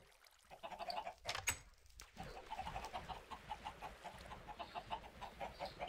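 About sixteen chickens cluck in a rapid, continuous chatter close by, with a couple of louder bumps early on.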